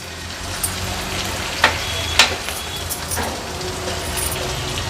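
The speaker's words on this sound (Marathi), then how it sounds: "नंतर ह्याच्यामध्ये कढीपत्त्याची पानं घालूया फोडणीला" Curry leaves sizzle in hot tempering oil, a continuous frying hiss close by with two brief sharp spits partway through.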